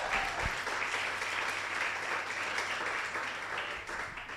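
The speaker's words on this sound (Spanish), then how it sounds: "Amén, aplaudan." Congregation applause at a church service, a steady dense wash of hands that stays even and sustained throughout, with no voices standing out.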